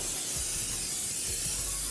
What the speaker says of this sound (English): So you just want to go ahead and get spray all over this.